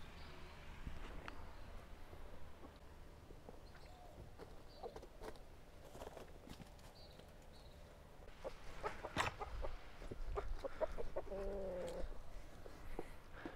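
Backyard homestead chickens in the morning: quiet scattered clucks and soft calls over faint outdoor background, with a few louder bird sounds near the end.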